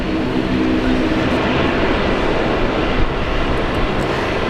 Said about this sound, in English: let's welcome this beauty, China Southern 787 here at Brisbane Airport